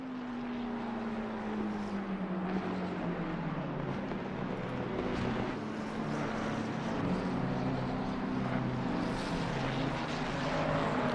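Ford Mustang GT race cars in an endurance race at the Paul Ricard circuit, with a steady, loud engine roar and a falling pitch as a car passes by, continuous throughout with no talk.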